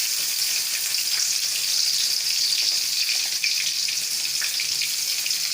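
Onion frying in hot oil in a heated kadai for a shrimp and taro-leaf curry, a loud, steady close-up sizzle that runs evenly throughout without any talk.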